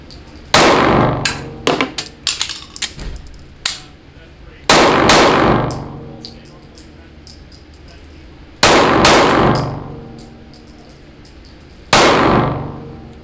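SCCY CPX-2 compact carry pistol test fired outdoors: several loud, sharp shots, a quick cluster near the start, then three single reports spaced a few seconds apart, each ringing off.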